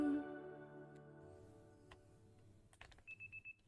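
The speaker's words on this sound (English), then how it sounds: "Your alarm is going off." An alarm in the game Pokemon Legends ZA starts with a fading chime, then near the end gives a quick series of four or five sharp, close electronic beeps.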